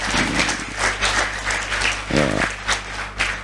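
Students at a vocational high school prayer gathering clap together in a lively, sustained burst of applause, with a brief voice heard near the middle.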